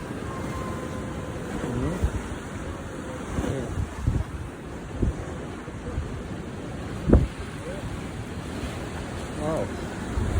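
Rough Atlantic Ocean waves off the Namibian coast roll and wash steadily under constant wind buffeting on the microphone, with a few louder surges breaking through the broadband roar.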